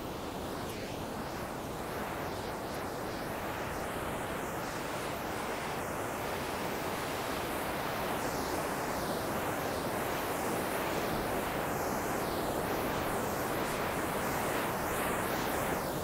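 Ocean surf rolling onto a beach in Acapulco, a steady broadband wash of breaking waves heard close and continuous with some wind, no voices.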